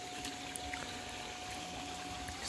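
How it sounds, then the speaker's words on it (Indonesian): A river after heavy rain flows strongly, a constant rushing, pouring wash heard at moderate distance, fairly quiet and unchanging, with a few faint clicks and no talk. "Sungai, oh sungai juga airnya lumayan deras ya."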